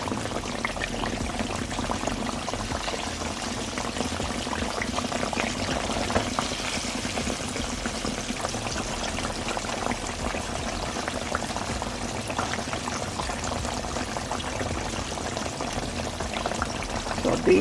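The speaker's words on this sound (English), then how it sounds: "So guys, you're gonna flip these pork chops over." Mustard-coated pork chops fry in a pan with a steady, continuous sizzle and crackle that holds at an even moderate level throughout.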